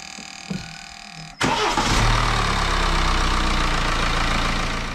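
A BMW N47 diesel on an xDrive car with an eight-speed automatic is restarted after timing chain work. After a brief quiet with a few clicks, the starter catches and the engine settles into a loud, steady, close-up idle.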